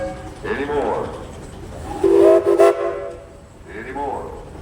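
A steam traction engine at an outdoor tractor parade sounds its whistle in a few short, fairly loud toots, with a longer, stronger blast in the middle, heard outdoors amid crowd noise.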